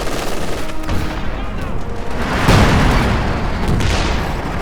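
MG-42 machine gun fire in the Company of Heroes 2 video game, heard as dense, continuous battle gunfire with booms mixed in, loud throughout and swelling midway.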